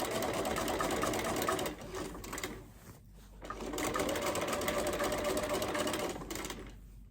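A sewing machine sews quilting stitches in short bursts, whirring steadily, pausing briefly, then running again at moderate volume with no talking.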